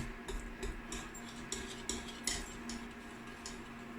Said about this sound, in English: I need to keep on mixing because I can feel it starting to stick to the bottom a bit.